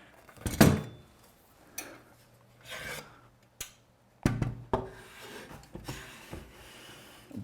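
A heavy frame assembly is flipped over in a workshop, giving a loud scraping thud followed by several irregular rubs, knocks and clunks of the frame shifting and settling, close by with no talk.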